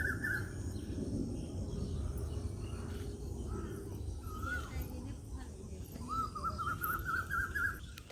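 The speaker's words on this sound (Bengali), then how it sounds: "চারপাশে আর কি পাখিদের ডাকাডাকি করতেছে" Birds call intermittently from around a village, including a long warbling trill near the end, over a steady low background hum and a faint voice.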